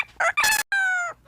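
A parrot imitates a rooster's crow: a single close, loud cock-a-doodle-doo of two or three rising then sustained harmonic calls lasting about a second, with no talk over it.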